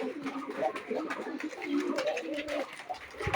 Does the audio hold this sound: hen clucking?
no